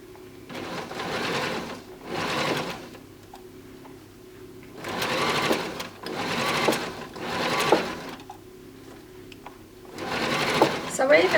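A sewing machine stitches stretch lace onto a ribbed cardigan sleeve in short repeated bursts of close mechanical whirring, separated by pauses where someone talks.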